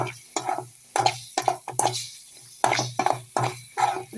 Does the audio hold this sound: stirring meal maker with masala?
yes